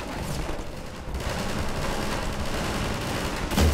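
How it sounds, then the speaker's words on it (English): Distant gunfire crackles steadily through Half-Life 2: Episode 2, a dense wash of shots with a louder burst at the end and almost no talk. "Okay, these guys are shooting at something."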